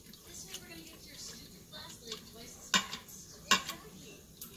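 Slurry stirred into a pot roast's cooking liquid, soft liquid swirling with a couple of sharp spoon clanks against the pot, quiet and close, with talking over it.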